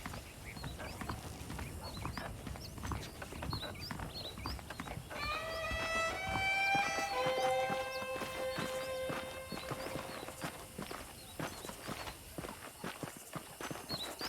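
Horses in the Red Dead Redemption video game, hooves clip-clopping steadily at a walk and one horse letting out a clear whinny midway, all at moderate loudness.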